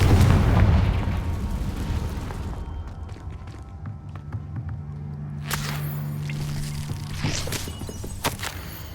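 In the Hogwarts Legacy video game, the Confringo fire-blast spell lands as a heavy, booming burst at the start, then dies down into a quieter rumble broken by scattered sharp pops and crackles.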